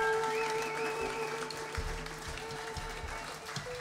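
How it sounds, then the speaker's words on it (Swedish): Applause from an audience rises under a murmur of voices, a steady wash of clapping that stays moderately quiet. "Då kan jag väl ge Staffan en stor till applåd här"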